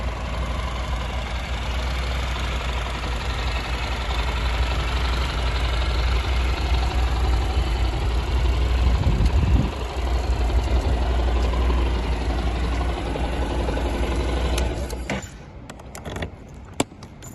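A Honda NC700X motorcycle engine idles with a steady low rumble, then cuts off near the end, leaving a brief clink in quiet.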